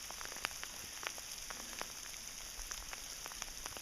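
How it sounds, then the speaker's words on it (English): Sleet falling outdoors in cold weather, a dense steady patter of small icy pellets hitting surfaces, with scattered sharper ticks and no voices. "Yeah, this is sleet."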